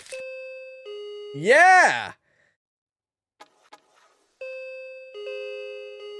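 Two-tone electronic doorbell chimes in the Weed Shop 3 video game ring clearly, a ding-dong sounding twice with a pause between, while a man briefly exclaims over the first chime.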